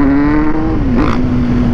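A dirt bike's engine drones loud and close in a short burst, its pitch dipping and then rising again as the throttle is worked.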